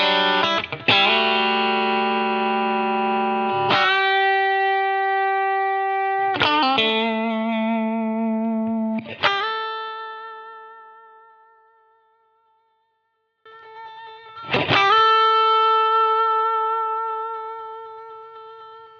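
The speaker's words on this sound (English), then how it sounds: "set both stages for fast attack and slow release, giving your guitar unnaturally long sustain and softened pick attack, perfect for smooth lead and slide tones" Electric guitar played through a Cali76 Stacked Compressor pedal, both stages set to fast attack and slow release: loud strummed chords and single notes ring out with very long, smooth sustain, one chord fading slowly to silence before the next.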